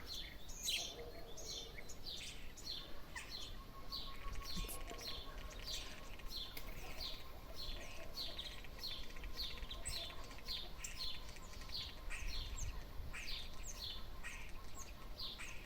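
Lively chirping and whistling birdsong from several birds, varied repeated calls over a soft outdoor background, with no voices.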